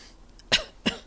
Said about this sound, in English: you hear a little cough.